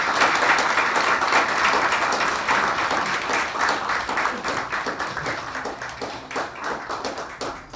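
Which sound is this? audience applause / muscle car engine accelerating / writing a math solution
audience applause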